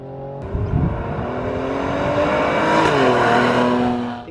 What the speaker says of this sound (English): they've got that exhaust note.